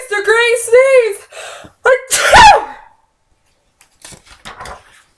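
A voice builds up with a wavering, theatrical inhale and then bursts into a loud, exaggerated imitation of a sneeze, followed by faint rustling.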